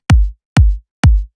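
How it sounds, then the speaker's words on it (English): Three punchy electronic kick drum hits play evenly spaced, each with a sharp click attack and a deep booming tail that drops in pitch, dry and alone. "I also use this kick"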